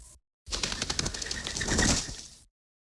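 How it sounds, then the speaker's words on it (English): A robin flapping its wings and taking off in a 1994 PC interactive storybook game, a dense fluttering burst lasting about two seconds, close and fairly loud, with no talk over it. "It was the robin. The bird poked at one spot on the ivy-covered wall. Then it flew off."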